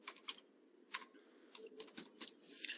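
Quick bursts of keystrokes on a computer keyboard while entering a date, close and fairly quiet, with short pauses between clusters of clicks.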